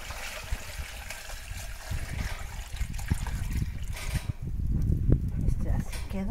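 Water is poured into a clay pot of sweet potato set on a comal over a wood fire, a low splashing trickle running steadily through the whole stretch, close and moderately loud.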